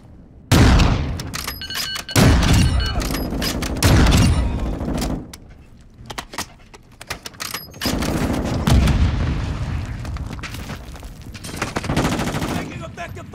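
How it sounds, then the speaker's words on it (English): Sniper shots ring out in Call of Duty: Modern Warfare 2 DMZ, several loud, sharp cracks spaced a couple of seconds apart with echoing tails, mixed with bursts of other gunfire and a voice speaking. "there's somebody sniping at me"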